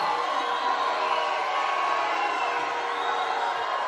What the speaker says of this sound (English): Big crowd at that weigh-in too.